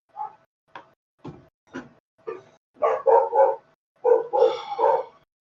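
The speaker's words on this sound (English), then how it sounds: "that's my sister's dog going off" A dog goes off in a run of sharp, loud barks, starting as single spaced yaps and building into quick clustered volleys, close by and with no talking.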